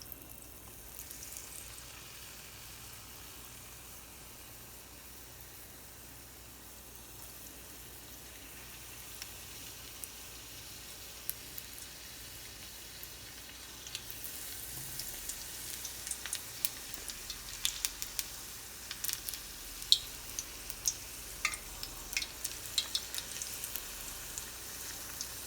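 Ajwain (sambarballi) leaves dipped in batter sizzle and crackle steadily in hot oil as pakoda fry, a dense hiss that grows busier with sharp pops toward the end, with no talking.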